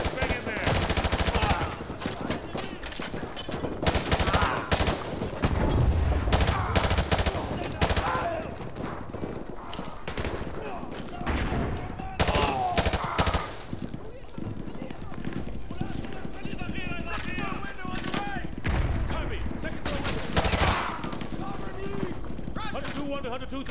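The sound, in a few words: heavy gunfire in Call of Duty: Modern Warfare 2 video game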